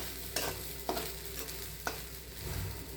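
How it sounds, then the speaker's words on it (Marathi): Sabudana khichdi is tossed and stirred in a pan, giving a soft background sizzle. Three or four distinct spoon scrapes fall at roughly half-second to one-second intervals, close and moderately quiet. "थोडंसं हलवून घ्यायची, वर खाली करायचं"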